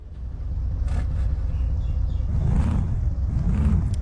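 A DAF Euro Wing truck engine starting in Euro Truck Simulator 2, a loud low diesel rumble that builds and settles into a steady idle, with two heavier surges near the end.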